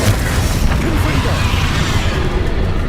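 A Confringo blasting spell goes off in Hogwarts Legacy, a loud, sustained booming blast with crackling debris, a voice speaking over the rumble.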